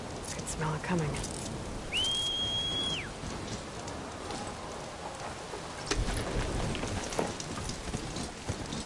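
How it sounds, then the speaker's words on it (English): Steady rain patters throughout in the video game Horizon Forbidden West, with a brief whistling tone and faint distant rumbles mixed into the downpour. "There's the rain."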